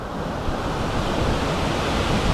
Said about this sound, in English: I guess it all comes into this river that shoots through the valley here.